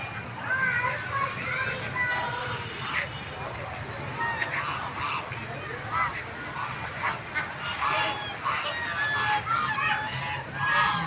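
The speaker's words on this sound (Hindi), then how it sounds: "मोर हैं।" Peacocks in a family park in Karachi give repeated honking calls amid the chatter of children and people talking nearby.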